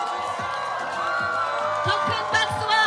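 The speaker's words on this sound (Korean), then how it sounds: "더 큰 함성을 주십시오" A crowd at a Lee Jun-seok presidential election rally at Seokchon Lake Park cheers and shouts, a loud mass of voices and whoops rising in bursts over a continuous roar.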